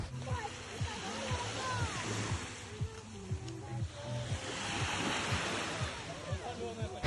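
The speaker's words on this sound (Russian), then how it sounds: "Посмотрите, какое красивое море." Sea waves on the Azov Sea wash steadily against a beach under gusty wind, while people talk nearby throughout.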